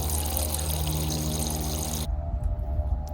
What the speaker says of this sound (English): you can see the water flowing out of the bottom of the bucket